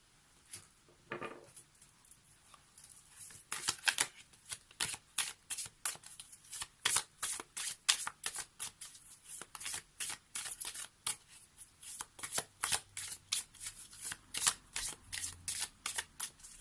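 Tarot cards being shuffled for a daily reading, a long run of quick, crisp riffling flutters repeating in close, steady bursts.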